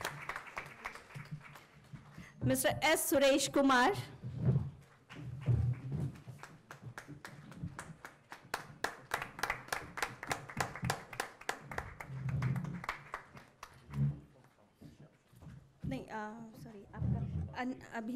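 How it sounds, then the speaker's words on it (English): Audience clapping at a panel discussion during a school innovation summit, bursts of applause from a crowd breaking out between stretches of a presenter speaking over a microphone, rising and fading several times. "We would like to listen your claps."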